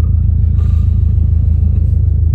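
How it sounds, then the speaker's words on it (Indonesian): A Subaru WRX STi with its EJ25 boxer engine idles while warming up, giving a close, loud, steady low burbling rumble with an uneven pulsing rhythm. "kalau manasin mobil tuh namanya bubu kedengeran"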